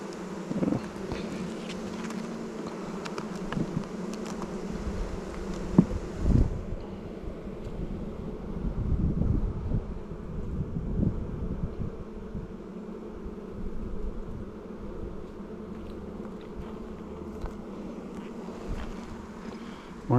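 Honey bees buzz steadily around an opened hive, a dense continuous hum close to the microphone with light wind noise and occasional handling sounds from the beekeeper's work.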